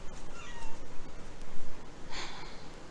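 A house cat meows indoors, a couple of short mid-pitched calls with a clearer one near the end, close by over a steady low background hum.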